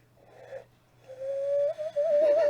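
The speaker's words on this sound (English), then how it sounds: "I can also hand whistle." A person blows into cupped hands to make a hand whistle: a short breathy attempt, then a sustained hollow whistle that wavers in pitch for over a second, heard up close.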